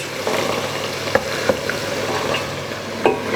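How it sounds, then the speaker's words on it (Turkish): Carrots sizzle and crackle steadily in a hot pot, with a few sharp clicks of a utensil stirring them. "Birkaç dakikada havuçları kavuracağız."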